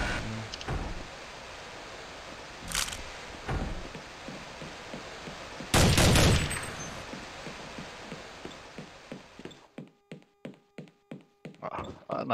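Two sharp, loud cracks from a scout sniper rifle in a multiplayer shooter game, the second heavier, set among steady rhythmic footsteps and clatter with no voices.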